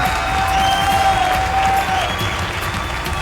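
Audience applause at a comedic Hindi kavi sammelan (poetry recital), a loud, steady wash of many hands clapping with some crowd noise, heard alone throughout.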